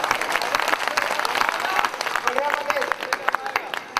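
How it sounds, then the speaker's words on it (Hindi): Audience at a kavi sammelan poetry gathering in Kolar applauding, brisk clapping mixed with crowd noise and voices talking over it, fairly close and lively. "ऐसे अवतारी पुरुष के लिए जरा जोरदार ताली बजाइए"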